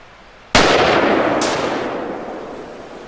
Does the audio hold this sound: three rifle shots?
yes